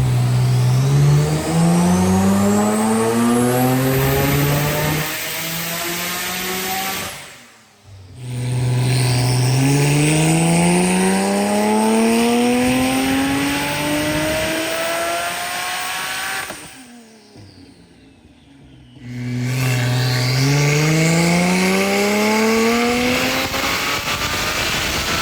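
A Porsche 991.2 Turbo S engine revs hard on a dyno, three long rising pulls climbing steeply in pitch, each cut off abruptly, loud and close with brief quiet gaps between runs.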